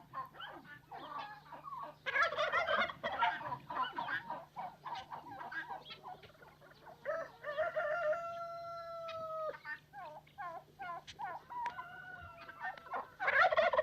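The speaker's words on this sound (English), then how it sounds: "Turkeys loom large not only in Marija Balan's backyard" Turkeys gobble over and over in a backyard poultry smallholding in a Yugoslav village, mixed with clucking fowl. The calls come in rapid, overlapping bursts and run continuously with no talk.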